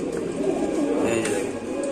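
King pigeons of the Rajshahi breed coo softly in a low, steady murmur that runs throughout, close by, with a few faint chirps above and a hint of voice in the background.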